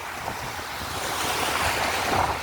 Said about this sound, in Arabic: بصوا الجمال والموج عالي بس ما شاء الله.